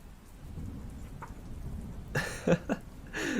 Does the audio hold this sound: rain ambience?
yes